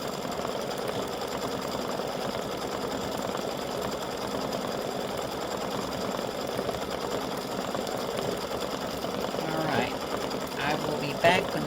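An embroidery sewing machine stitches Valentine hearts onto flip-flop straps with a continuous, even mechanical whir and rapid needle chatter that holds steady, then shows a few brief jolts near the end.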